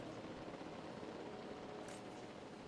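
A helicopter in the video game Jurassic World Evolution 2, a continuous whirring rotor droning steadily at moderate volume, with a brief higher hiss near the end.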